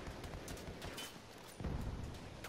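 Gunfire in a shooting video game, with rapid bursts of shots that are quiet and somewhat distant, running steadily without any talk.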